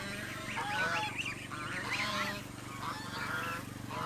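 Geese and ducks on a small farm plot honk repeatedly in a busy, overlapping chorus at moderate distance over a steady low background hum, with no speech.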